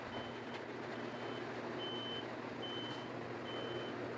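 A thin, high driver attention alert beep repeats at regular intervals over a low, steady engine hum inside an Eicher 2x1 seater sleeper bus.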